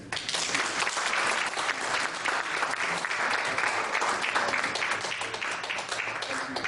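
Sustained applause from an event audience welcoming a former US transportation secretary to the stage, dense steady clapping throughout at even volume.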